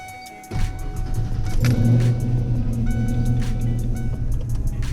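A 1992 Ford Mustang Foxbody coupe with 3.73 gears pulls away after a quiet idle, engine note jumping to a loud, steady low drone heard from inside the car and holding through the run.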